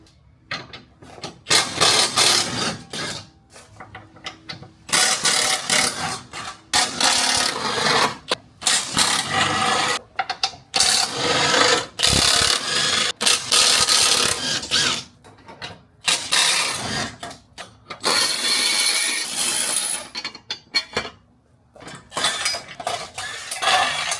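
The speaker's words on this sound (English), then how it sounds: "now we're going to loosen up all these subframe bolts" A ratchet works loose the rear subframe bolts on an FL5 Honda Civic Type R, making loud, repeated clicking and grinding mechanical bursts in quick runs with brief pauses between them.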